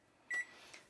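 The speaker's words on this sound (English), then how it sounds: "we'll go ahead and set the timer for 60 minutes there" A kitchen oven timer gives a single short, clear electronic beep as it is set, faint and brief in a quiet room.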